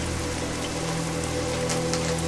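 Steady rain falls on a dark night, a dense continuous hiss with scattered drop patter over a low steady hum, no voices.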